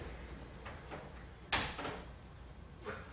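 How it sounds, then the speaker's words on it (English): An apartment door opens and shuts in a quiet room: a soft creak and handling noises, then a sharp latch click, and a fainter knock toward the end. "I had that door open 10 seconds."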